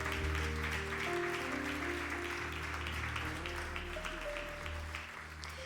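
Church congregation clapping together, a dense continuous patter of applause with sustained organ or keyboard tones beneath, fairly faint and steady.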